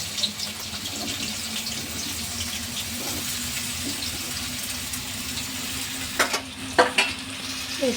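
Potato pieces dropping into hot oil in a pan for a potato and green chili fry, giving a steady hiss of frying with a few sharper bursts of sizzle and clatter near the end.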